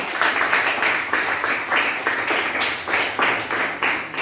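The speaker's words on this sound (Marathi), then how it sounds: "अभिनंदन तिचं पुन्हा एकदा टाळ्या वाजून करा" An audience applauds a student after a school science model demonstration of a central volcanic eruption, a series of rhythmic, fairly close group claps in regular pulses, with no talking.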